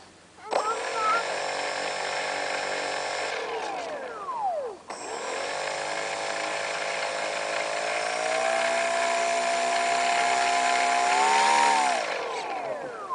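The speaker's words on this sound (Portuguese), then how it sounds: "Liga o motor agora." Small model airplane engine screaming at high revs close by, a sustained piercing whine that briefly dips and drops away near the middle, then climbs back and holds with slight pitch shifts.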